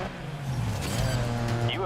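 An open-wheel race car from the GRID Legends racing game drones with a steady engine whine and faint tire noise, moderately loud and continuous, with talk over it.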